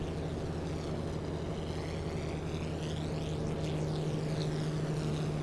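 A Grumman Avenger propeller engine in Microsoft Flight Simulator 2024 drones steadily throughout, a low, even hum with a whirring, pulsing overtone and no talking.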